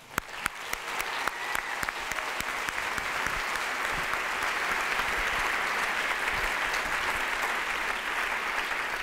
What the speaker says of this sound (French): Merci de faire un tonnerre d'applaudissements à Rafaela Garbin.